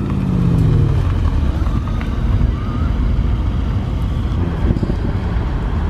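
A powerful Mercedes C63 engine rumbles loudly nearby at a supercar gathering, with gusty wind noise buffeting the microphone.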